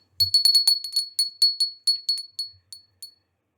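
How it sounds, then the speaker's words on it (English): A small bell rings repeatedly, about a dozen bright, clear strikes in an uneven rhythm, each with a short ring, close and alone against silence. "Gonna ring the bell."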